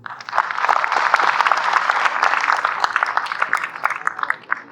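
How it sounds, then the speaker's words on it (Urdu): Audience applause at a college welcome party, steady dense clapping from a large crowd, loud and continuous, thinning slightly toward the end. "تالیاں ہونی چاہیے ان کے لیے"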